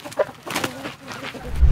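Chickens and a rooster squabble with short clucks and squawks at close range, and a sharp cry rises above a scuffle. Low rustling builds toward the end.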